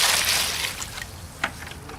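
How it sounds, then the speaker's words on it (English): Water pours into fast-drying cement mix with a soft splashing trickle at the start that fades into quieter sloshing, close by and faint. "Water."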